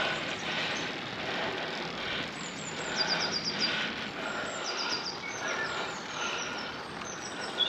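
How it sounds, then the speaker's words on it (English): Birds sing along a hillside road in Costa Brava, several faint, high chirps and short trills scattered over a steady rush of wind and road noise. "Hearing the birds as I'm climbing up here"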